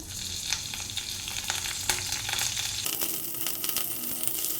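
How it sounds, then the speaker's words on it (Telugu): Cumin seeds and green chillies frying in oil in a kadai, a constant crackling sizzle with occasional stirring clicks, close up; partway through the hiss shifts abruptly in tone, with no talk. "ఇప్పుడు పచ్చిమిర్చి కూడా వేయించుకోవాలి"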